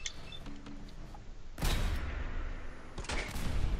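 Two gunshots in the video game Fallout 4 ring out as sharp, loud blasts about a second and a half apart, each with a short decaying tail over quiet background ambience.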